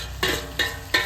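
Meat and browned onions fry in a kadai, with three evenly spaced stirring scrapes over a steady background sizzle.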